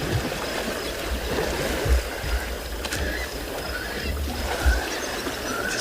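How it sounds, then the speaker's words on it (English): An elephant swimming and splashing in water on a morning safari in South Africa, giving continuous soft water sloshing and paddling with occasional louder low splashes, near and steady, with no talk. "Just going to be quiet for a moment, Lai, to listen to the splashing."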